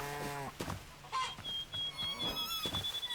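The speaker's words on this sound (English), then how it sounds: "there's another chicken over here that we'll grab as well" A chicken in the video game Hytale clucks in a few quick, close, fairly loud bursts, with other short farm-animal calls mixed in and no talking.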